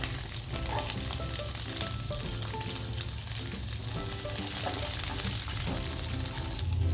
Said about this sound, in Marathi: थोडंसं तेल टाकलं मी आता हा लसूण आणि आलं आपल्याला परतून घ्यायचं आहे